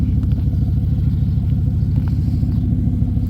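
Ford Mustang S550 engine idling and rolling under its own power out of a shop, a steady loud low rumble that fills the whole stretch without pause.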